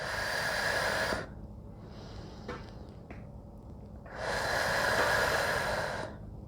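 Two long, forceful breaths during a reformer Pilates workout, each a loud, close hiss lasting about a second or two. A quieter stretch between them holds faint clicks and softer breathing. No voices.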